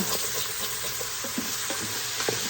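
Onions and jalapeño sautéing in an Instant Pot while a utensil scrapes the pot bottom, giving a constant close sizzle broken by repeated short scraping strokes.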